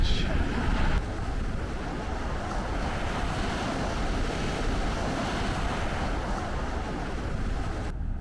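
Ocean surf and wind on an Assateague Island beach, with a steady, loud wash of breaking waves and gusts buffeting the microphone, continuous throughout with no clear talk.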